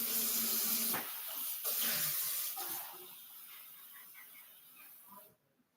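Water from a kitchen tap runs into a glass, a steady hiss with small clinks and gurgles that slowly quiets before the flow cuts off at the end.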